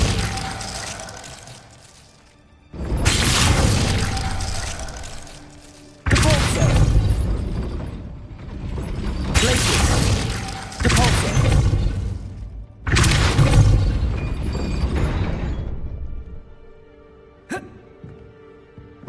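Depulso force-push spell bursts in Hogwarts Legacy, five loud blasts of a few seconds each with short gaps between them, over a low game-soundtrack bed.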